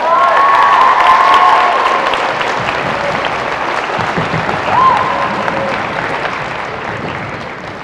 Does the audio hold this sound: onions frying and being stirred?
no